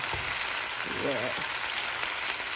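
Oxtail sizzling steadily in a skillet alongside potatoes and carrots, a continuous close hiss of frying for soul food, with a brief low murmur of a voice partway through.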